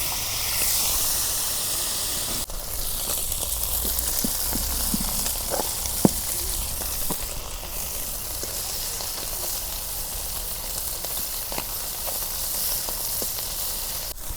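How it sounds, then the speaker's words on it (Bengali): Tilapia frying in oil in a pan, a continuous hissing sizzle with scattered sharp pops and crackles, close and steady throughout. "মাছ ভাজা হচ্ছে"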